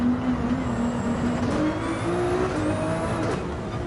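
Race car in Gran Turismo 7 running off into the gravel, a steady loud engine drone with gear-shifting pitch climbs and a broadband rumbling wash of gravel and tires throughout.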